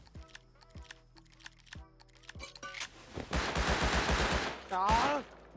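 Gunfire in the survival game Rust, starting with a few sharp shots amid keyboard clicks, then building into a fast, loud burst of automatic fire near the end.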